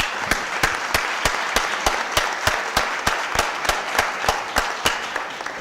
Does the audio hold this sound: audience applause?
yes